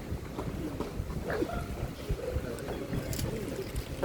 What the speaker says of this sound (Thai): ลมแรงครับทุกคนครับ